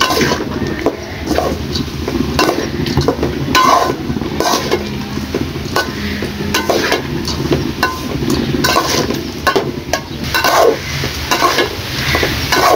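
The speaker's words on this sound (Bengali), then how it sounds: "তারপরে আমি একটু কষিয়ে নিব ভালো করে" Spices with dried red chili powder being sautéed in a pan: a steady sizzle with repeated scraping stir strokes, close and fairly loud, with no talking.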